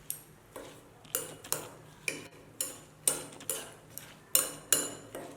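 Utensil clinking against a bowl while chili peppers are tossed with soy sauce, sugar and vinegar, with about ten sharp taps landing in a steady rhythm roughly every half second, close and fairly quiet.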